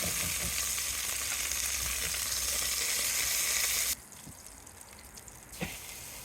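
Beef for chili con carne sizzles and fries loudly in a pan, a steady close crackle that drops off sharply near the end and leaves a quieter sizzle with a brief clatter.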